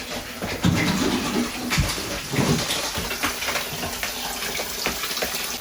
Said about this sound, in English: So it is time to start filling the cold tub.